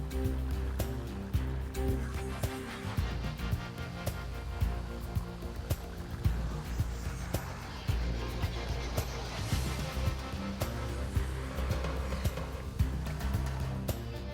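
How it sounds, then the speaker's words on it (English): Beer pours from a freshly opened can into a glass, a close, continuous foamy gurgle and fizzing hiss that lasts throughout with no talking. "He pours it into a glass, careful not to spill a drop of the suds"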